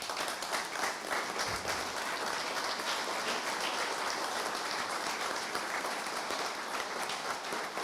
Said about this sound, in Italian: se ci alziamo un attimo e facciamo un applauso a Enzo Ferrari.